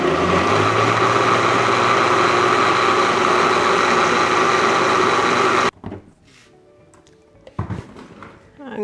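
A blender grinds ghee curd with a glass of water, a loud steady whirring drone for about six seconds that cuts off abruptly, leaving quiet handling noises and a short clatter.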